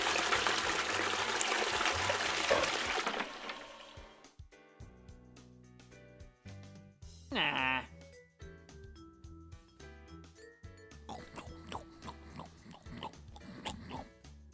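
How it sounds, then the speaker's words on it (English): Tap water runs steadily during hand washing after using the toilet, a broad close splash for about four seconds before fading out under music. "Always wash your hands after going to the toilet."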